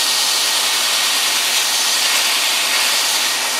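A homemade 2x72 belt grinder running just below full speed, giving a loud, steady broadband whir and hiss that holds evenly throughout with no talking.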